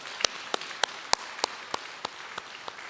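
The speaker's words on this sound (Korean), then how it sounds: "우리 하나님께 감사와 영광의 박수 올려드리겠습니다." Sparse, separate handclaps come from a few people in a Korean church congregation during Sunday worship, about ten sharp claps in an uneven rhythm against a quiet room.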